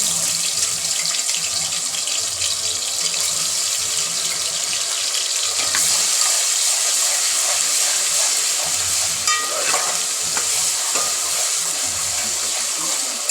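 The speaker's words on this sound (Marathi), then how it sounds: "अद्रक लसूणची पेस्ट पण चांगल्या प्रकारे परतून झालेली आहे." Ginger garlic paste frying in oil alongside tomatoes for a village-style mutton curry makes a loud, continuous hissing sizzle with a few scraping stirs, close up and without speech.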